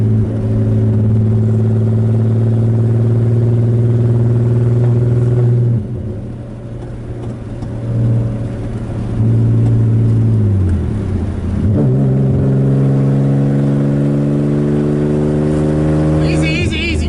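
A loud drift car on stiff coilovers with a welded diff, driven on a wet road. The engine drones and rumbles close up, eases off midway, then revs and climbs again.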